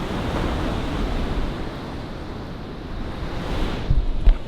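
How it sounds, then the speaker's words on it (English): Ocean waves at Waitpinga Beach in South Australia, a continuous broad roar of surf with wind buffeting the microphone, steady throughout with a few sharper gusts toward the end. "We have come down for a look at Waitpinga Beach."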